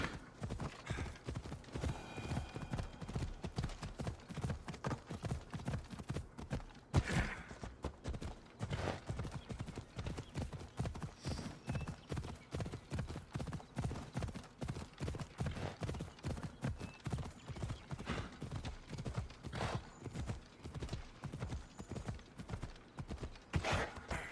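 Galloping horse hooves in Assassin's Creed Odyssey, a steady rapid clip-clop rhythm running the whole time, loud and close, with brief game sounds over it and no talk.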